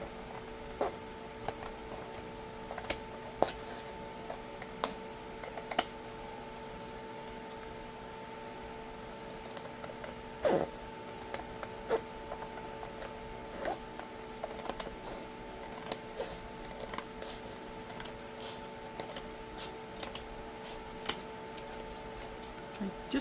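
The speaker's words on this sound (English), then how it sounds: "let's take our scissors and just go around and cut this off" Tim Holtz scissors cut around paper in a steady series of small, sharp snips close up. The snips sound over a constant low hum, and no one speaks.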